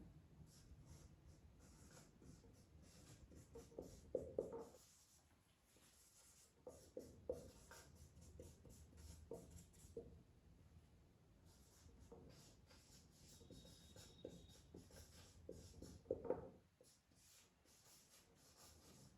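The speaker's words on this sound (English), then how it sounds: "I am writing down the definition for you." A pen writes out a definition on paper, faint, close scratching strokes in short bursts with pauses, quiet throughout with no speech.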